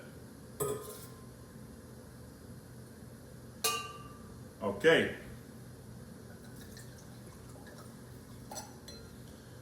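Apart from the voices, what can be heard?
Merlot wine being poured into a glass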